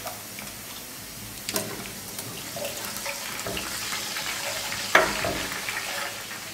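Tomato tipped into a pan of frying soffritto, with a steady close sizzle broken by a few stirring knocks and one sharp clink, no talk.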